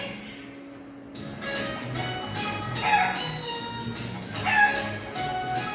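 A rooster crows in a couple of drawn-out calls, fairly close and clear, with a faint dog-like bark mixed into the background.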